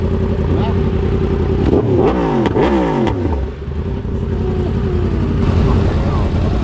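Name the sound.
motorcycle engine revving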